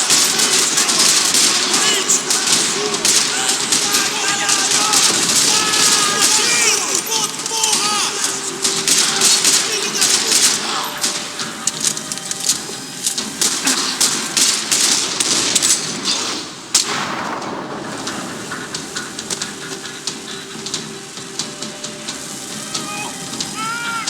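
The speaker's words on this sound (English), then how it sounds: "Another parking lot rattling with gunfire." Gunfire in a parking lot in the video game Max Payne 3, with dense rapid crackling shots rattling almost nonstop and loud throughout, with voices talking over parts of it.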